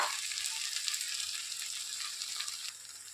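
Grated mango sizzles steadily in hot oil while being sautéed, a close, continuous frying hiss with faint stirring underneath and no talk.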